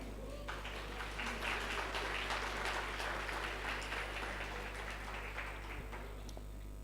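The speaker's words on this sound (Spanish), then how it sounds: "¿Cuánto le pueden dar un aplauso al Señor?" Congregation at a church conference breaking into applause, a broad wash of clapping that swells after half a second and fades toward the end, heard somewhat distant over a constant low hum.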